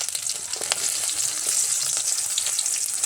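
Garlic and onion frying in a pan, a steady bright sizzle with scattered crackles and pops, continuous and close.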